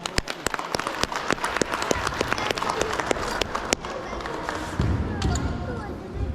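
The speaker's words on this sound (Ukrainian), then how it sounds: "Аплодуємо, аплодуємо." Applause at a children's football award ceremony, scattered sharp claps over a crowd murmur with voices talking, fairly near, thinning after a few seconds into background chatter and bumps.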